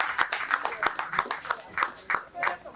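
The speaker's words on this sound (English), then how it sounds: "Please let's clap for her." Audience clapping at a church humanitarian event at a health center, a sparse, uneven patter of individual claps spread across the moment, fairly faint, with voices mixed in.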